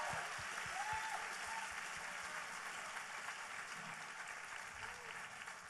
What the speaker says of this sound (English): Let's give all these ladies one more sincere round of applause.